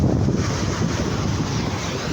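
Strong seaside wind buffets the microphone in a constant low roar, with a faint hiss of moving air and no voices, at Tanza, Cavite.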